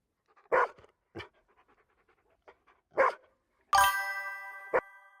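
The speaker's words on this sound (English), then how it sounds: "All we've got to do is get some dog sounds." Recorded dog sound sample played back alone: a few short, loud barks spaced unevenly, separated by quieter panting and breathy snuffles, closing with a sharp bark burst.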